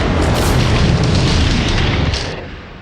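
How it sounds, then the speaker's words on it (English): A film sound-effect ship explosion layered with sharp metal hits and railroad cars coupling: a massive, sustained booming roar with crashing metallic impacts, loud and close, that fades out over the last second. "Sharp metal hits and the sound of railroad cars coupling are added to the ship explosion."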